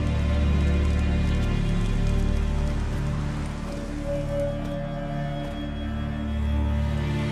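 Steady rain falls continuously in The Witcher 3: Wild Hunt under a low, humming ambient background, with no talking.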